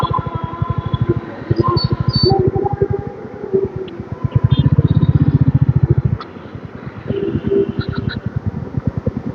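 A motorbike idles and rides slowly through a parking area at a gate, its engine putting out a close, rapid, even thumping that swells and dips, with faint beeps and clatter around.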